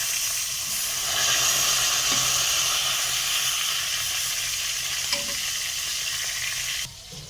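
Pieces of bhetki fish fry in hot oil, a dense hissing sizzle running near and loud throughout, with a faint clink partway and a sudden quieter drop at the very end.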